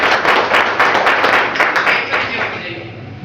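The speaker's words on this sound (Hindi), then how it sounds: "इनके लिए एक बार जोरदार तालियां होनी चाहिए।" Audience members at a leadership development program in Hiranpur, Jharkhand, break into loud, close clapping in quick bursts that taper off toward the end.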